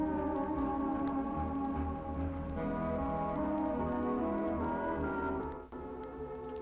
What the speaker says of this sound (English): This stage plays different samples from iconic 1920s and 1930s ballroom music